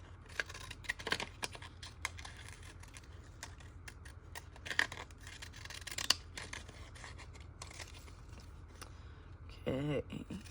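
Scissors cut through craft material in a run of quiet, close snips and crisp cuts, with light rustling and handling noise between them.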